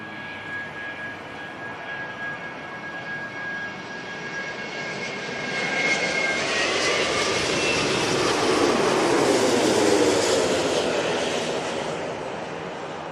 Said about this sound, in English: Airbus coming from Seattle.